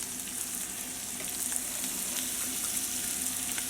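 Onions and ground meat sauté in a pan with a continuous, moderately quiet sizzle and faint crackles, no voices over it.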